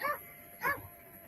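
A dog gives two short barks, near and moderately loud, spaced about half a second apart, with a quiet steady background between them.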